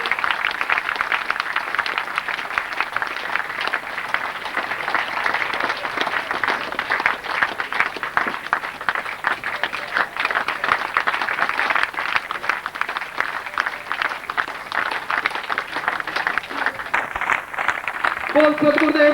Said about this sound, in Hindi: तालियों के साथ पूरा से स्वागत करिए।